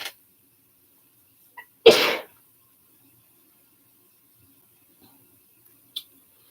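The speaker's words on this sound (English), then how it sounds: "I felt like when I just sneezed." A single sharp sneeze bursts out close by in an otherwise quiet room, with a couple of faint clicks before and after.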